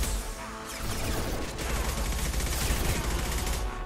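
Gunfire rattles through a Mass Effect 2 firefight, a dense stream of rapid shots and mechanical clatter at moderate volume that runs continuously across the clip.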